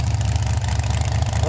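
The engine of a lifted purple Plymouth gasser idles at close range with a rough, loping, pulsing rumble, while voices talk over it.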